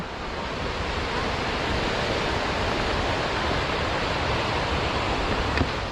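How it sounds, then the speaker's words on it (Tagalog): Steady, loud rushing water fills the whole clip, a constant roar like a nearby waterfall with no pauses. "Ang lakas ng huni ng tubig."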